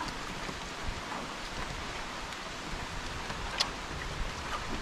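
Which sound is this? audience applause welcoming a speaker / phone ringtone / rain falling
rain falling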